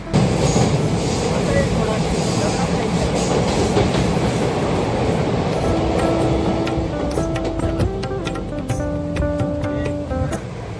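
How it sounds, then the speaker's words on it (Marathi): An express passenger train rolls along the rails from Kalyan with a loud, constant rumble and rhythmic clatter, joined later by faint squealing tones. "फायनली ट्रेन आलेली आहे आणि 1:15 वाजता आम्ही बसलेलो आहोत कल्याणपासून"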